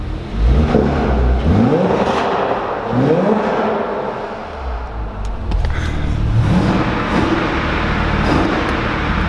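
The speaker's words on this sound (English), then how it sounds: "I like the sound of the Cayman more" Porsche Cayman engine revving repeatedly, loud sweeping rises and falls in pitch with a deep exhaust growl, heard up close in several bursts.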